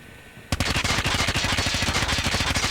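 BK57 assault rifle in a video game firing one sustained automatic burst after a brief quiet lead-in, rapid evenly spaced loud shots with sharp cracks running steadily to the end.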